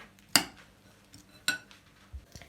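Vegetable salad gently tossed in a bowl, giving two sharp clinks of utensil on the bowl followed by a few softer taps, close and fairly quiet.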